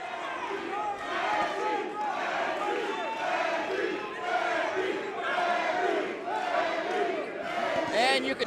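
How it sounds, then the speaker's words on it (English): Crowd at a Hollywood professional boxing fight night roaring and cheering continuously, dense and loud, with a commentator's voice running over the noise. "And you can hear the crowd."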